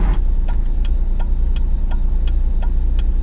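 A 1990s Honda Beat engine runs steadily up close, a continuous low hum with a faint, regular ticking rhythm over it.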